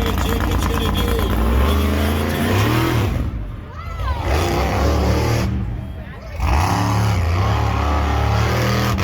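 Loud monster truck engines roar and rev at an arena show in Victorville, California, a continuous heavy rumble with brief dips and surges as the throttle drops and picks up again, with crowd noise and an announcer's voice underneath.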